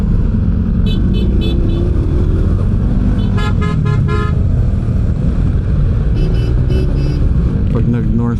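Dense road traffic in Caloocan, heard from inside a vehicle: a steady engine and road rumble with several car horn toots scattered through, some close, while voices talk over it.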